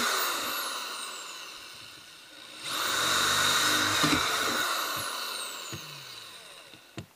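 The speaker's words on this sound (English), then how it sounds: "just drill a bunch of holes in the bottom" A power drill bores a scatter of holes through the bottom of a plastic 5-gallon bucket, a steady loud whine from the middle of the stretch with a few sharp knocks and clicks before and after.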